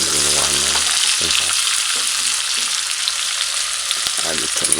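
Sweet pepper frying in a hot pan for an ackee and bacon breakfast, a loud dense steady sizzle with a few soft stirring knocks underneath, close and continuous.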